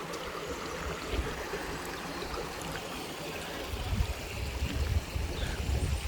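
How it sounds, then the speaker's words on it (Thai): A forest stream near a village home flows steadily, a continuous broad rushing wash that swells a little louder in the last couple of seconds, with no talking. "ลำธารบ้านเขา"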